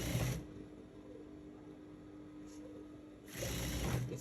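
A sewing machine runs steady top stitching along a short skirt with darts, a continuous mechanical whir between louder bursts at the start and end.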